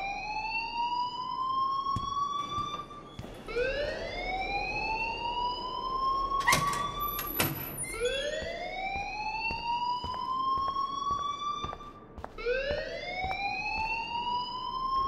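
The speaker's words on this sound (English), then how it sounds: "please turn off that alarm since that's your job" A school fire alarm in the game Life is Strange wails with repeating rising siren sweeps, loud and close, broken by a few sharp clanks and bangs midway.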